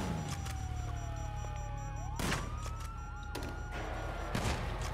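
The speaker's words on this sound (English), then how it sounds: "Oh, fuck, you hear that? Sirens!" Wailing police sirens in GTA 5, several overlapping tones sweeping up and down continuously over a steady engine-like drone, loud and close, with brief bursts of other noise.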